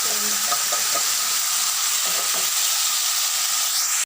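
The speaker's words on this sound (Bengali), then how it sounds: "তরকারিকে ভালো করে নেড়ে ছেড়ে নিচ্ছি" Okra and potato curry sizzling in a pan with panch phoron spices, stirred with a few scraping strokes of a spatula over a steady loud frying hiss.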